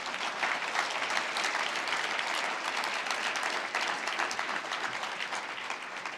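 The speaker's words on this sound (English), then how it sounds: "Again, a round of applause." Steady, dense applause from a large audience at an awards gala fills the hall, continuous and even throughout with no speech over it.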